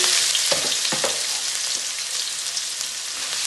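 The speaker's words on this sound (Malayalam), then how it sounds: "അങ്ങനെ എണ്ണ നന്നായി ചൂടായിട്ടുണ്ട് അതിലേക്ക് ഞാൻ ഒരു സ്പൂൺ കടുക് ഇടുന്നുണ്ട്" Mustard seeds splutter and pop in hot oil for a papaya-carrot pickle, a dense close sizzle with a few sharper crackles early on, heard without talk.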